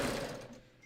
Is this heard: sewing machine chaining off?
yes